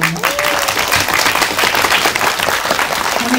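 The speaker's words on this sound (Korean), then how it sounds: "박수 부탁드립니다." A theater audience at a film screening event claps loudly and continuously, a thick wash of many hands that stays dense throughout.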